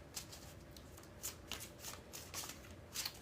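A tarot card deck riffled in a bridge shuffle, several quick papery flutters and soft snaps repeating close up and quiet, with no one speaking.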